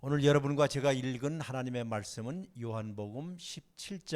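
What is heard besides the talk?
None of the usual background noises is heard.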